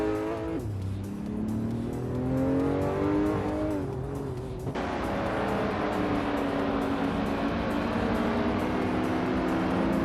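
Race cars roar through a video game race, engines revving and shifting pitch as they climb through gears, with a sharp change midway as the field surges on; loud, continuous and close, with no talking.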